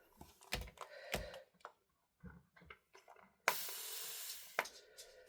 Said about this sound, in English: I'm just going to spray it a little bit